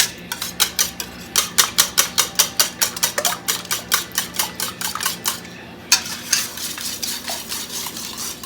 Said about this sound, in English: So you want to get this thoroughly whisked.